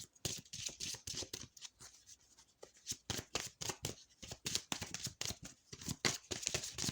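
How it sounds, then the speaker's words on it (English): A deck of oracle cards being shuffled repeatedly, with quick papery riffles and flicks in an uneven, busy rhythm, close up and fairly quiet. "shuffling this oracle deck here"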